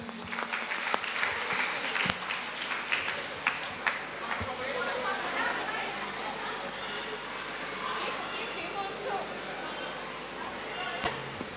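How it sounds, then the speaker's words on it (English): Applause from a church jubilee cultural evening crowd, a broad continuous clapping texture with some louder individual claps standing out and indistinct voices mixed in underneath. "A big round of applause for them"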